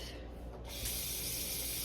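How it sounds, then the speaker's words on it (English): Tap water splashes and rushes steadily into a cooking pot being filled for ramen noodles, close and continuous, growing fuller after a brief initial spatter. "put some water in this pot"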